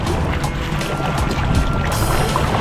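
A kayak paddles across sea waves off Badija island, Croatia, in a light headwind, with a constant wash of splashing water and wind close by.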